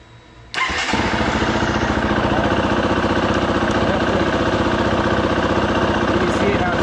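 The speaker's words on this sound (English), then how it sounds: "And start the bike." A Husqvarna FE motorcycle engine fires up after a brief pause and settles into a loud, steady, rapid idle close by.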